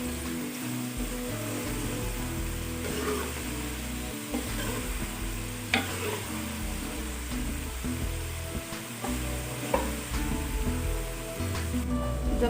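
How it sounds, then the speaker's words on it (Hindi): Homemade crispy potato chips fry in a pan of oil, a continuous close sizzle and bubbling with occasional stirring clinks over a low steady hum, with no talking. "जब तक चिप्स फ्राई होती है"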